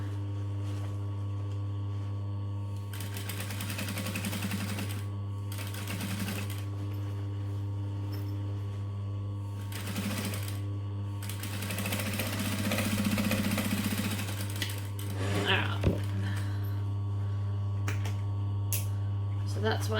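A sewing machine stitches fabric for a sewing project, its motor whirring in several bursts of a few seconds each between pauses, close by and fairly steady, over a constant low hum.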